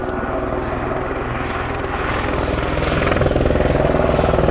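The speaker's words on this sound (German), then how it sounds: "Der Helikopter kommt für einen letzten Dienst vorbei" A Eurocopter Super Puma Cougar helicopter of the Swiss Air Force flies a display pass, a loud, steady rotor and turbine roar with rapid blade chop that grows slightly stronger toward the end.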